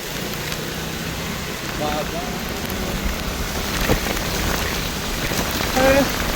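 Heavy rain pours down steadily during a storm in Jaffna, a dense continuous hiss of drops on surfaces with a few brief louder spatters and faint background voices.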